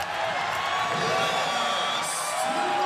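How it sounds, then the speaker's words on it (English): An arena crowd at a professional basketball finals game cheers and whoops steadily, a broad sustained roar at moderate level with a brief brighter swell near the end. "Listen to the crowd."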